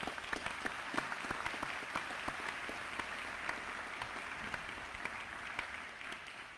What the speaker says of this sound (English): Let's have a round of applause for this incredible accomplishment.